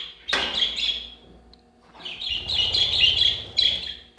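Lutino budgerigar chicks chirp in close, high-pitched bursts: a sharp call cluster at the start, a short pause, then a longer run of busy overlapping twittering with a final burst near the end.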